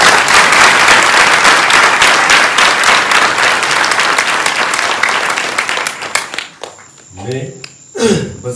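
A church congregation gives loud, sustained applause for God, with thick rapid clapping from many hands filling the room. The clapping fades and a voice begins speaking near the end.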